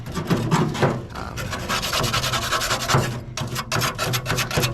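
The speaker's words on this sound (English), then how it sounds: "you can take the slider off and give it a scrape as well" Metal scraper rasping grease and carbon off the removable slider plate of a Pit Boss pellet smoker, a steady run of close, loud back-and-forth scrapes with brief pauses.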